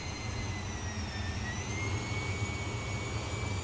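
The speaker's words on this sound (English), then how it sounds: "We'll spool up the engine." Vintage T-33 jet engine spooling up on the runway with flaps set for takeoff, a steady loud turbine roar with rising high whine tones over a low rumble, continuous and close.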